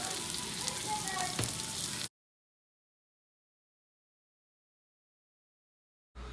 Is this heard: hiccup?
no